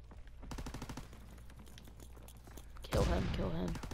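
Sustained rapid gunfire in a video game, a steady automatic rattle that swells into a louder, denser barrage near the end, with voices talking over it.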